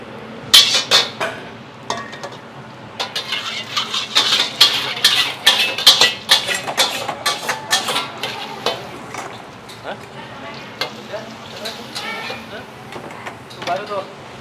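Four portions of mie goreng are stirred and fried in a restaurant kitchen: repeated metal utensil scrapes and clanks against the pan over a steady sizzle, busy in the first half and then sparser.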